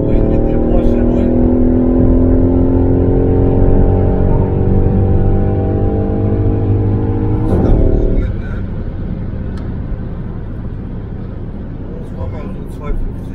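Steady engine drone from the cabin of a Mercedes SLK AMG cruising on a road while a Porsche behind tries to overtake; the engine note shifts down partway through, and people talk over it throughout.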